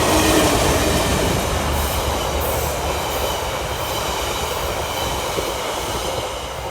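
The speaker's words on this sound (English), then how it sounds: "This is New Zealand Railways in action, and it is a retrofitted locomotive with aluminium frame windows." A retrofitted New Zealand Railways locomotive with aluminium-framed windows rolls past with a loud, steady rumble that eases slightly over the seconds, with faint rail clatter and no voices.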